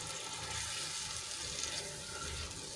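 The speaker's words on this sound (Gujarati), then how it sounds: "અહીંયા હું બીજું એક ગ્લાસ જેટલું પાણી એડ કરું છું" Roughly a glass of water poured into a buttermilk gravy, a soft steady wash of liquid heard close up and alone for a few seconds.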